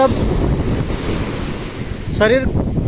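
Ocean surf rolls and washes close by with heavy wind buffeting the microphone, and a brief voice-like tonal sound cuts in near the end.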